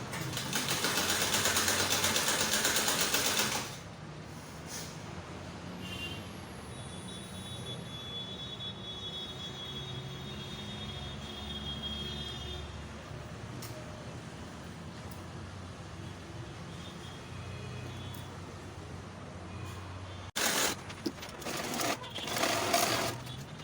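A sewing machine runs a stitch through a PU leather handbag with ring handles. It opens with a loud, steady whirring run, then drops to a quieter hum with faint ticks, and picks up again with short bursts near the end.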